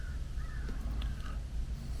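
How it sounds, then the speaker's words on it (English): Crows caw outside, a few harsh calls that sound distant and faint over a low indoor rumble. "The crows."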